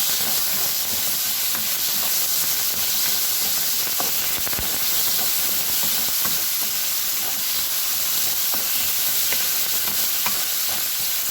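Steady, loud sizzling of rice and frozen peas frying in hot oil, with occasional crackles and light stirring taps, continuous throughout and no talking.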